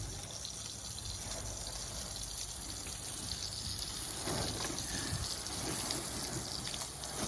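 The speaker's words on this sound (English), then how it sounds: "keep spraying water" Water spraying steadily onto a camper in a backyard, a continuous hissing wash with pattering drops striking the surface, close and fairly even throughout.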